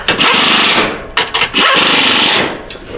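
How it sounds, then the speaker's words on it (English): An impact wrench drives transmission bolts home during a 6T70 install, loud close bursts of rattling hammering broken by two brief pauses. "I do not use a torque wrench, I just use my impact on."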